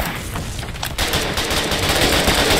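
Dense, continuous gunfire in the war game Foxhole, rapid overlapping shots and bursts that grow louder and busier partway through, loud and close, with no talk over it.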